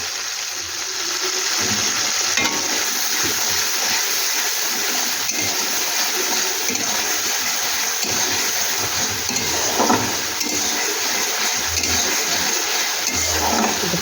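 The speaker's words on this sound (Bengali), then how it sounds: "ভালো করে ভেজে নিচ্ছি" Chilli powder, Kashmiri chilli powder, turmeric and salt frying together in oil in a home kitchen, a steady broadband hiss with gushing, watery texture running throughout, with no talking.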